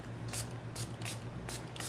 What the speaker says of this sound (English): and you can keep spraying it